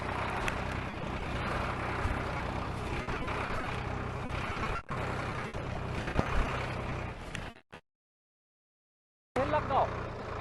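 A Sonalika Tiger tractor fitted with a dozer blade runs during a test, its engine a loud continuous drone that is briefly interrupted by a near-silent gap before returning.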